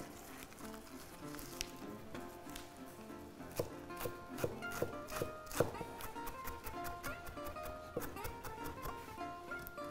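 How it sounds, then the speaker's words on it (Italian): Quick, fairly faint knife chops on a board through garlic, basil and parsley, coming in irregular bursts with a light sizzling background. "E vado a tritare."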